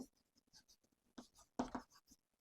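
Chalk or marker writing chloride on a board in a classroom, a series of short scratchy strokes with quiet gaps, two louder bursts near the end.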